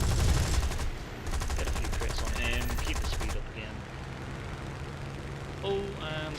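Fighter plane machine guns fire in a flight sim video game, long rapid bursts with a steady hammering rhythm over engine drone, close and loud, then fading into the hum as a voice speaks.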